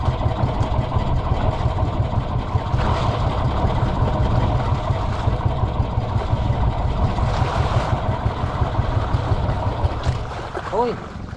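A fishing boat's engine runs out at sea with a steady, close, low chugging rumble that holds throughout, easing slightly near the end.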